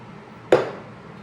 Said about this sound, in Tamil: இது வெங்கல டம்ளர்.